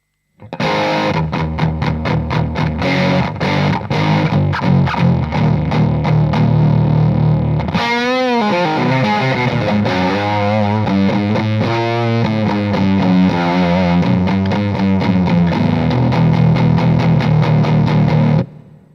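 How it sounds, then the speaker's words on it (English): Heavily distorted electric guitar through a Marshall amp with everything cranked, played loud with chugging chords, then a sustained bending lead with thick, saturated, muddy tone, continuous throughout. "When you start with the sound of the Marshall, everything cranked, you notice that the sound is muddy."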